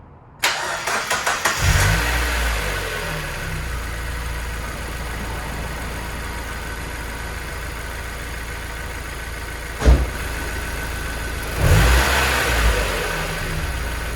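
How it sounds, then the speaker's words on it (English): A hot Mazda Miata NB engine starts and then runs at a steady idle with a faint ticking beneath it, heard loud and close, with two brief blips of revving. "It's a hot engine right now, so should tick for you."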